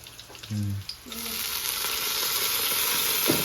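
Chicken broth poured into a hot pot while making chicken mandi bursts into loud, steady sizzling that keeps going close by, after a brief short tone at the start.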